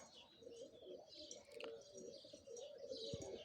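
Tumbler pigeons fly in and gather near their loft, giving soft repeated cooing calls with a few brief chirps and a faint wing flutter, fairly quiet and close amid low background noise.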